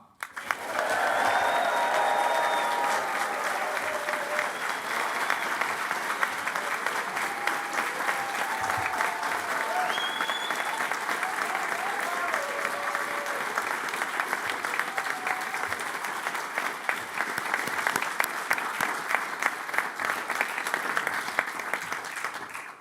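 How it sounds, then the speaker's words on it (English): Sustained applause and cheering from a large crowd at a business school graduation ceremony, a steady dense roar of clapping with a few whoops rising above it, continuing loud and unbroken throughout. "let's raise the roof with a huge cheer and round of applause"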